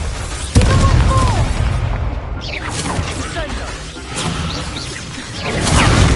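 A Confringo fire-blast spell from a Hogwarts wizarding video game bursts with a sudden booming impact early on, then a rumbling whooshing tail beneath a busy game soundscape.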